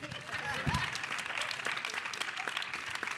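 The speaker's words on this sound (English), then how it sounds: "Go ahead, clap" Audience clapping during a live-streamed talk show, a brief burst of mixed hand claps with some background voices underneath, fairly close and moderately loud throughout.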